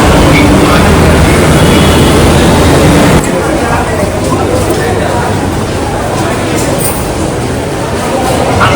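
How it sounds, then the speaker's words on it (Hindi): Loud, steady roar of a crowded metro train rolling into a station in Delhi, rumbling continuously with a shift in tone partway through, amid crowd noise. "मेट्रो आ गई।"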